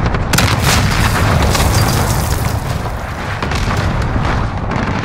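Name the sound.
cruise missile explosion in Call of Duty: Modern Warfare video game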